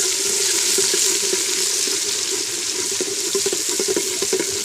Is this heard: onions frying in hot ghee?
yes